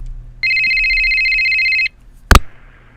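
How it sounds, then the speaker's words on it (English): A telephone ringing for an incoming call: one loud, steady electronic ring lasting about a second and a half, followed by a sharp click as the handset is picked up, in a quiet room. "Oh, we got a phone call."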